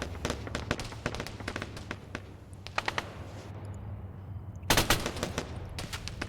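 Rapid bursts of a vehicle-mounted machine gun in a military video game, sharp repeated reports in irregular clusters, fairly close and loud, with a heavier burst near the end.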